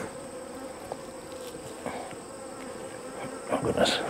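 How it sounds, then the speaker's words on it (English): Honeybees from an open, queenless laying-worker hive hum in a steady close buzz, with individual bees flying past the microphone and growing louder near the end. "I see there's some bees coming out, emerging."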